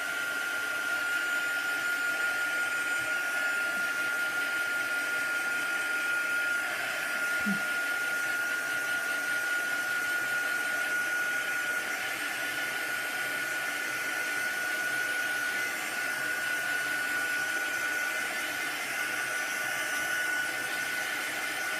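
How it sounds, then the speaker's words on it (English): A heat gun blowing on an art journal page, a steady loud whirring blast with a high whine that runs unbroken for over twenty seconds. "I'm just going to give this a quick blast with the heat gun"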